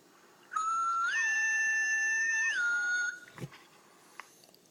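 A whistle ringtone plays on an HTC EVO phone: a clear, bright, sustained whistled tone that rises, holds steady for about two seconds, then dips and stops, followed by faint clicks.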